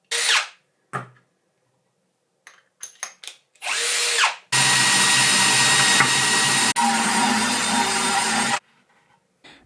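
A power drill bores screw holes into an old oiled driftwood plank, with short whirring bursts first and then a long steady loud drilling run that stops abruptly.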